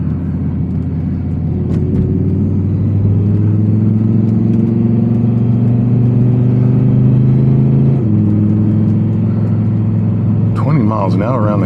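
A 2023 Audi R8 V10 Spyder's naturally aspirated V10 revs close behind the seats, a loud droning tone climbing through the gears with a sharp shift drop, and a voice speaking over it near the end.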